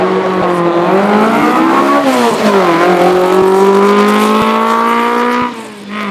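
A Hillman Imp race car with a 1200cc all-aluminium engine climbs a hill at a speed hillclimb event. The engine screams loudly and steadily through rising gear changes, close to the listener, then drops away at the end.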